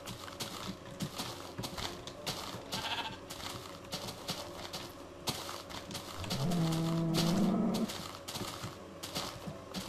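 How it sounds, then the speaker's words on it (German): A Minecraft sheep bleats in a steady, drawn-out tone near the middle of a busy game soundscape, with other farm animals and faint clip-clop movement around it. "Komm, Schaf. Ja, du brauchst hier gar nicht so rummuhen."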